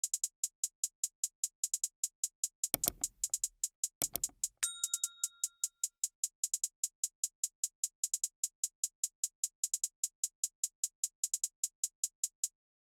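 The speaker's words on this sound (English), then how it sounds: "Then we move on to the hi-hats," Crisp hi-hats from a trap beat remake of a song tick in a fast, steady stream throughout, briefly joined by a couple of heavier drum hits and a held tone near the middle.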